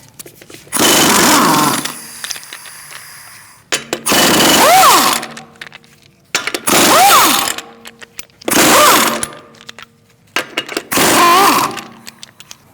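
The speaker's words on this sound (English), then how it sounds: "We're going to use a 19mm socket to remove the lug nuts, to remove the wheel." Impact wrench spinning off the rear wheel lug nuts of a 2016-2019 Chevrolet Cruze with a 19mm socket, in five loud, close bursts of rattling hammering, each a second or two long with short pauses between.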